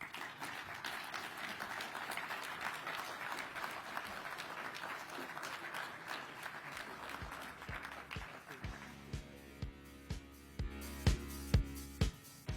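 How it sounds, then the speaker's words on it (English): An audience at a Polish-American inauguration event applauds in a dense, sustained wave. Partway through it thins into sparser, rhythmic claps over a steady tonal background. "Another round of applause for him."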